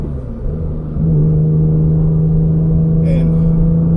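A Porsche 911 GT2 engine drops a gear and rises into a steady, loud full-throttle drone heard from inside the car, holding a strong sustained tone with no talk over it.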